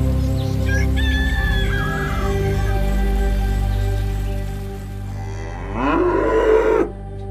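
Dairy cattle on a highland farm in Pangalengan, Bandung, West Java, with long low moos rising through the scene and a rooster crowing early on over steady rural background noise.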